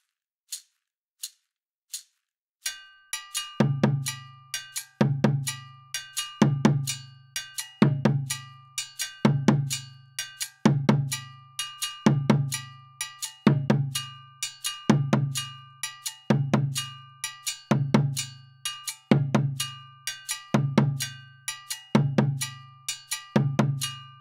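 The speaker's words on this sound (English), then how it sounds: "we're going to add the sangban or the higher bass drum part." Sangban, the higher-pitched bass drum of a djembe and dundun ensemble, plays a steady repeating pattern of deep struck tones, each paired with a sharp metallic bell clank, entering after a few lone bell hits and continuing alone and close.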